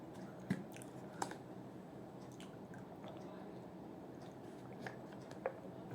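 A person takes quiet sips of water during a short break in a recorded GST study lecture. The soft wet swallowing and mouth clicks come in a few brief bursts over a steady room hush.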